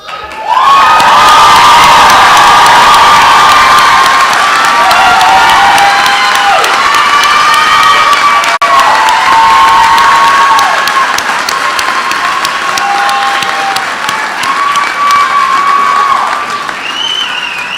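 Graduates at an Owens Community College nursing pinning and graduation ceremony draw a loud, sustained wave of applause and cheering from the crowd, with shouts and whistles rising over dense clapping throughout.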